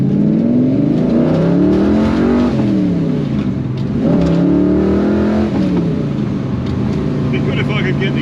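A 1971 Ford XY Falcon GT at a car show revs hard several times, its engine note rising and falling loudly and close by, with voices around it.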